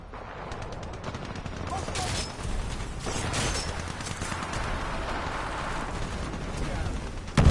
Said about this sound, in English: Oh, random grenade.